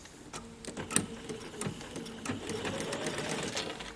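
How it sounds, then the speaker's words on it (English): Sewing machine stitching white quilt block strips down one side for a Hermosa quilt block, a steady rapid mechanical whir with needle clicks running continuously and close, no talking. "I'm sewing down one side,"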